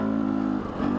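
A Husqvarna TE250i trail bike engine revs close by, a steady buzzing drone that dips briefly before rising again, with no talk over it.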